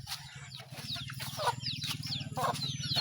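Pet hens cluck in short, repeated bursts against a low rhythmic background hum, with soft chirpy calls scattered across the few seconds, moderately close but fairly quiet.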